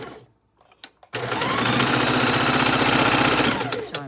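A sewing machine stitching 1/4-inch quilt seams starts after a few faint clicks, then runs in a loud, fast, steady mechanical whir close by for about three seconds before slowing, with no talking.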